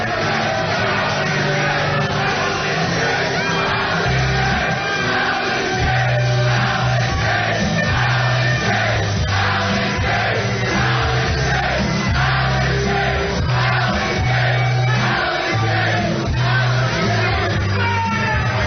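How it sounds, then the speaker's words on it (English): Fight-night crowd yelling, whooping and cheering in a packed room at a live radio fight event, a dense continuous roar with shouts rising over steady low music-like hum throughout. "The crowd definitely split on Al Dukes."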